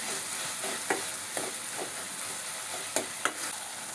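Turkey berries and tomato sautéing in hot oil for sundakkai kuzhambu, a steady broadband sizzle throughout with a few sharp spatula scrapes and pops, close and alone with no talking.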